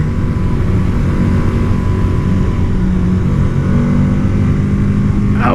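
A Honda Grom motorcycle running flat out at about 47 mph, its engine a steady loud high-revving drone with heavy wind rush, continuous and close, rising slightly near the end.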